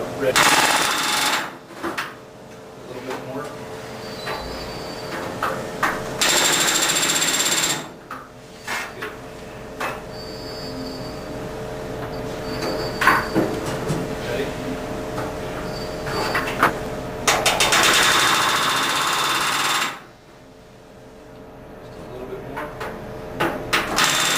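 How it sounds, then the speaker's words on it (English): Pneumatic rivet gun setting rivets on an aircraft boot cowl, delivered in several sustained rattling bursts separated by short pauses, loud and close in a workshop, with people talking between runs. "I'll leave the camera rolling for this whole rivet process"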